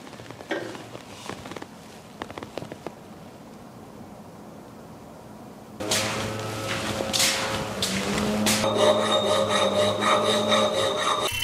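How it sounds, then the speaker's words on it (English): Round file rasping through drilled holes in a Damascus steel kukri blade, with scattered scraping strokes at first, then a quiet pause, then sustained louder rhythmic filing with a ringing metallic tone. "I'm just using a round file to connect all of the three holes"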